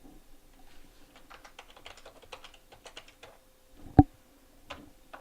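Password typed on a computer keyboard during a login: a quiet run of light, fast key taps in an irregular rhythm, close up, with one sharper, louder click near the end.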